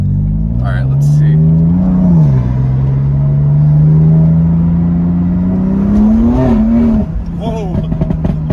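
BMW M4 with a Stage 2 MHD tune accelerating hard during a full-throttle pull, a loud, close engine drone rising steadily in pitch through the gears with a brief shift dip, ending as the revs drop away.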